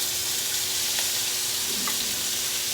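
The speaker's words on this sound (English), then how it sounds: "So we're going to start by putting in some bacon." Bacon sizzles and crackles in a frying pan, a steady close hiss with occasional pops and light stirring.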